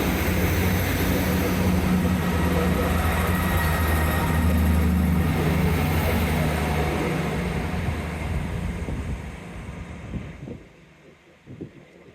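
A train approaching Newton Abbot station gives a steady, loud low rumble that gradually eases and fades as it slows near the end.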